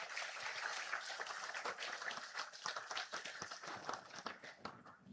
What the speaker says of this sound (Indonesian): Siapa yang tepuk tangan ini?